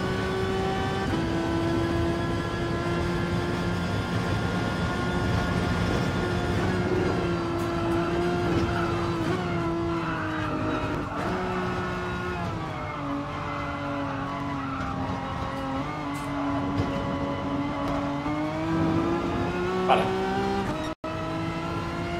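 A Renault Megane Trophy race car in Gran Turismo Sport drones loudly and continuously, its engine pitch climbing and dipping through gear changes and corners, with faint tire noise and no talking.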